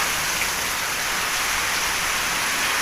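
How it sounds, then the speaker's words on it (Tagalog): Heavy rain pouring steadily, a loud, constant wash of drops hitting surfaces with no breaks. "ang lakas ng ulan"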